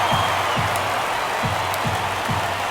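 A baseball stadium crowd in the MLB The Show 23 video game keeps up a dense, steady roar of cheering during a tense ninth inning, with faint thumping beats underneath.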